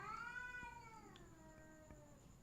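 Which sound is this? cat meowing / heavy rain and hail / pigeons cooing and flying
cat meowing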